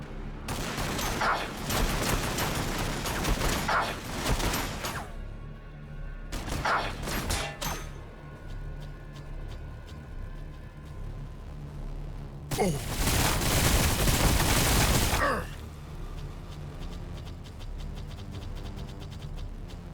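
Gunfire from a Warhammer 40,000: Battlesector battle with Orks: dense, sustained volleys of shots and booms that rumble continuously, swelling into louder bursts at intervals over a steady background din.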